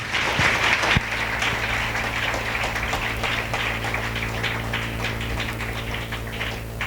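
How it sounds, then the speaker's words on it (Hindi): A church congregation applauding during a sermon, steady sustained clapping from a crowd in a large room, fairly loud and continuous with a sharp accent near the start. "सामर्थ्य वचन के लिए ताली बजाते हैं"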